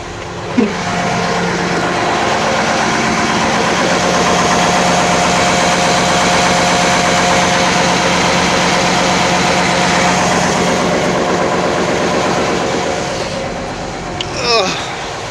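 A Mercedes OM 422A diesel engine on a Liebherr LTM 1070 crane from 1989 idles after a cold start, a loud, steady, throbbing rumble with a brief clank near the end.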